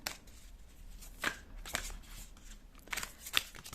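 Tarot cards are shuffled by hand at close range, several quick riffling bursts of flicking paper separated by short pauses.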